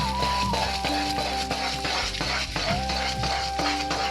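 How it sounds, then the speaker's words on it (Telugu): A spoon scrapes and stirs Mysore pak mixture in a pan on the stove until it dissolves, in a steady, close, continuous rhythm with a soft sizzling beneath. "ఇప్పుడు నేను బాగా అది అందులో కరిగిపోయేదాకా తిప్పుకుంటాను"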